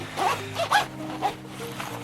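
Zipper on a fleece-lined jacket being worked in short, scratchy tugs, a few quick zips with small pauses between, close and moderately loud.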